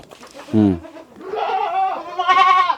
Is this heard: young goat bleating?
yes